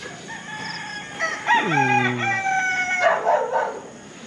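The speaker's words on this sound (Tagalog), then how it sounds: "Tilaukan na yung mga manok." A rooster crows at dawn at 5:30, one clear drawn-out cock-a-doodle-doo near the listener, followed by softer clucking, with no talk.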